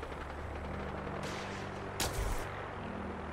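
Gunfire bursts out during a firefight in the video game Fallout 4, a steady rumble of combat with one sharp, louder blast near the end, heard with no talking.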